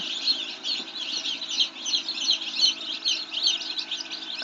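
A dense chorus of many broiler chicks in a poultry shed cheeps continuously, high and shrill, filling the enclosed space with a busy, overlapping chatter.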